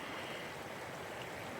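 Spring water rushing steadily over a shallow pond and terraces of pools in wooded wilderness, a continuous broadband wash of flowing water heard up close with no voices.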